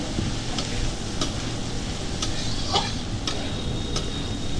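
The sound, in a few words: stirring mixed fried rice with chicken in a pan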